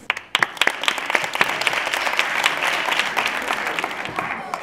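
An audience at the Teatro Alhambra claps, starting with a few sharp separate claps that quickly build into dense sustained applause from many people in the hall.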